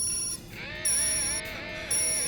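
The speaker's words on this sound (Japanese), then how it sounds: "ディオからの返信メッセージです。" An incoming message notification tone in an anime audio drama, a bright electronic chime repeating in three regular pulses over a steady background hum, clear and close.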